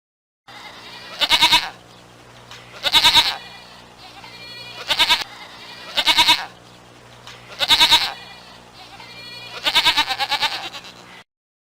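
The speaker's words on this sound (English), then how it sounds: "Goat." A goat bleats six times in loud, wavering cries in a mobile zoo memory-matching game, evenly spaced with short silent gaps between each call.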